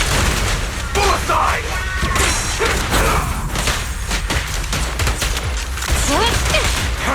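Gunfire in Zenless Zone Zero during an ambush, dense rattling bursts and booms running continuously and loud under shouted voices in the game.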